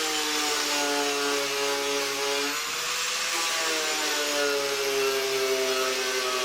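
A power tool whirs steadily as it trims excess metal off an inner repair panel at the bonnet corner of a camper van under restoration, a continuous high-pitched drone with a slight pitch dip midway.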